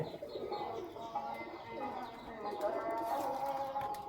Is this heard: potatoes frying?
no